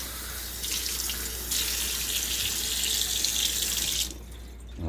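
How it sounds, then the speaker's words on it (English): Tap water runs steadily into a container, a loud continuous rushing hiss that swells slightly as flow increases and then drops off near the end. "fill the rest up with water."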